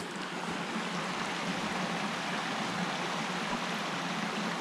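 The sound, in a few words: stream water flowing quickly in rainy season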